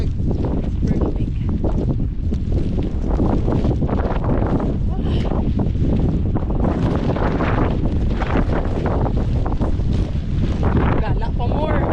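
Strong mountain wind roars across the microphone on a day hike up Mt. Ulap during a storm, a loud continuous buffeting rush that fills the whole clip, with voices faintly under it.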